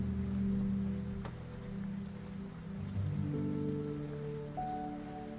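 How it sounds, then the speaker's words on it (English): Gentle, steady rain falls at night outside a boathouse, a continuous soft patter under sustained, low, droning tones that shift slowly throughout. "The gentle patter of raindrops"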